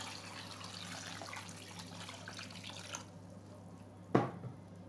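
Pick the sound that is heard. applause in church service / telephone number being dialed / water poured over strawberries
water poured over strawberries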